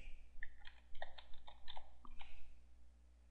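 Someone types a password on a computer keyboard: a quick burst of about a dozen light, close clicking keystrokes in an uneven rhythm over a low steady hum, then tapering off.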